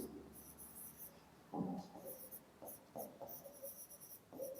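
Marker or chalk writing a sentence on a classroom board, a few short scratchy strokes in quick bursts with pauses between them, faint and close, no talking.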